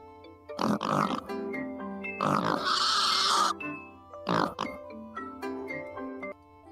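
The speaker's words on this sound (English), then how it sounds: "I'm assuming it's some sort of pig from Minecraft" Minecraft pig oinks from a video game, several grunting squeals in short bursts with one longer drawn-out squeal, heard close and clear over a low hum with faint game sounds between.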